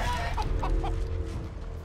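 Chicken clucking from the chicken form in the video game Divinity: Original Sin 2, a short run of close, busy clucks over a steady low game background hum.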